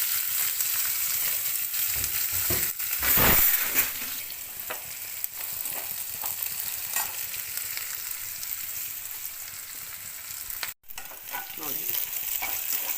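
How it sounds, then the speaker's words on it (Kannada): A mustard seed tempering for a greens stir-fry frying in hot oil in a pan gives a steady, close crackling sizzle throughout, with occasional stirring scrapes and one sharp clank near the end. "ಪಲ್ಯಕ್ಕೆ ಒಗ್ಗರಣೆ ಎಲ್ಲ ರೋಸ್ಟ್ ಆಗಿದೆ ಚೆನ್ನಾಗಿ"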